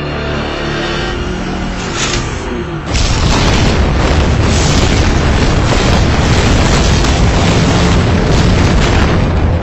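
Heavy enemy gunfire and explosions in a war film battle scene, a loud, continuous roar of booms and blasts that surges sharply after the first few seconds and stays dense to the end.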